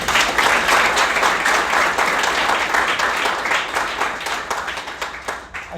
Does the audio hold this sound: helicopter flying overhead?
no